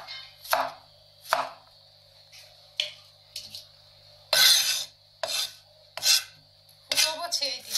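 Knife slicing ginger on a cutting board at home: a series of short, separate chopping strokes, some sharp and some rasping, spaced irregularly and growing quicker toward the end, close and clear with no talk.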